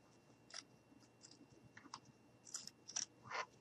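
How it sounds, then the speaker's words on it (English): Sharp scissors snip up the middle of a small piece of craft material for a mini gnome, giving several close, quiet, crisp cuts in an uneven rhythm. "take my scissors and I am going to just cut up the middle"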